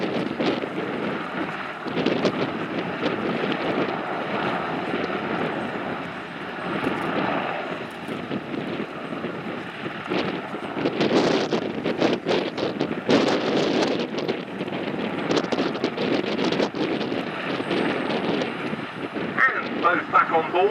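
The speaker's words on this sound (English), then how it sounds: "A very, very stable hover despite the windy conditions today." A German Navy NH90 Sea Lion helicopter hovers in windy weather at the Duxford Battle of Britain airshow. A broad, steady rotor roar comes from a distance, mixed with gusty wind buffeting the microphone throughout.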